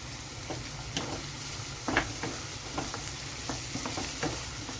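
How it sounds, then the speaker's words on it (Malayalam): Cashews frying in a pan with softened onions for a creamy Malai chicken curry, stirred with a utensil that gives repeated scraping clicks over a steady close sizzle; no talking. "ഇതൊന്ന് ചൂടാകുന്നിടം വരെ നമുക്കൊന്ന് ഇളക്കി കൊടുക്കാം"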